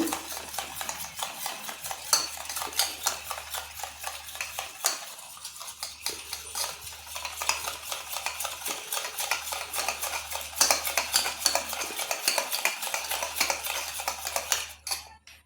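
Beaten eggs are whisked briskly in a bowl. The utensil clicks and scrapes against the sides in a fast, steady rhythm that runs close and clear for about fifteen seconds, with a brief pause midway.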